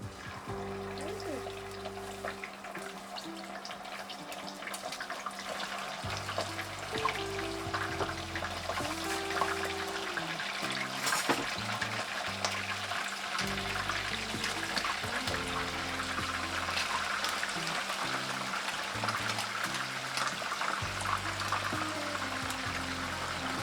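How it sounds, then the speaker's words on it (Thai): Hot oil sizzles and crackles steadily as chicken wings fry in a pan, a constant bubbling hiss growing slightly louder, with faint music underneath. "เราก็จะมานำไก่ ลงใส่กระทะกันเลยค่ะ"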